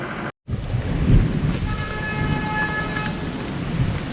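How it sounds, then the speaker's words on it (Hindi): Heavy rain falls steadily on the road through Neelum Valley, a dense, even hiss with a low rumble beneath, broken by a brief dropout near the start, with no talking. "पूरे रास्ते बहुत ज़बरदस्त वाली बारिश रही है"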